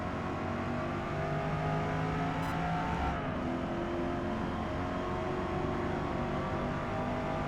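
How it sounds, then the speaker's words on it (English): A Corvette E-Ray C8 runs at full throttle at the Nurburgring GP in Forza Motorsport 8, its engine note holding a steady, sustained roar alone without any talk. "Throwing down full throttle again."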